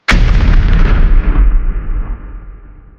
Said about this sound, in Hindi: एक इंडियन सोल्जर जब जल्दी जल्दी माइंस लगा रहा था तो एक माइन मिसफायर हो गई